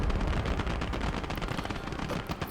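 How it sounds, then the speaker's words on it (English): Tanks fire in an AI-versus-AI battle in the Gates of Hell war game, heavy gunfire and booms rolling together in a dense, loud, continuous barrage with no pauses. "Both the tanks are firing"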